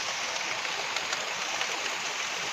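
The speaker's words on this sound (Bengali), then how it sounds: "তো দেখতেই পেলে বাইরে বৃষ্টি হচ্ছে আর এখন তো ভালোই পড়ছে" Steady rain pouring down outdoors, a dense, even hiss with scattered drop patter and no break across the short stretch, heard without any voices.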